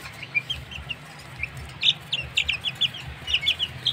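A Kanaway gamefowl hen clucks in quick, irregular bursts with her chicks' sharp peeping calls scattered throughout, close by and fairly steady over a low background hum.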